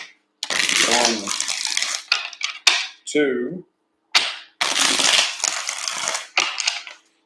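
A deck of tarot cards is shuffled in several short, crisp riffling bursts separated by gaps, close and fairly loud, with a voice briefly counting between them.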